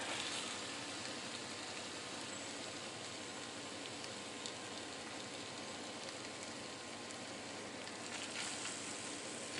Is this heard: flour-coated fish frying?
yes